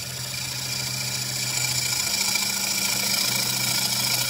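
A bowl turning gouge meets spinning wood on a lathe, giving a steady loud mechanical hum and whir of the machine with a faint continuous scraping as the cut begins.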